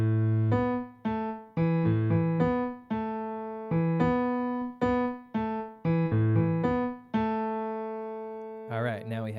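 Two left-hand piano bass licks for a jazz tune intro played back to back, a steady run of low struck notes and brief note pairs ringing and fading in turn, ending on a long held note with a soft rustle after it.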